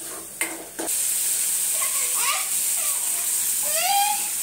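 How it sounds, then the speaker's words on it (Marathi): Tomato paste frying in oil with onion masala in a home kitchen, a steady close hiss of sizzling with a few scraping stirs of a spoon in the pan and no talking. "आता मी टमाटरची पेस्ट टाकते आणि इला सुद्धा ना तेल सुटतपर्यंत चांगलं परतून घेणार आहे तेलामध्ये"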